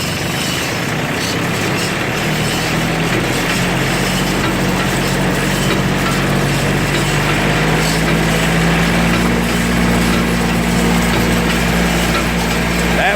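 An old, noisy Ford 501 hay baler cranks up and runs with a loud, steady mechanical clatter and drone that holds unbroken throughout, with a low tone that rises slightly toward the end.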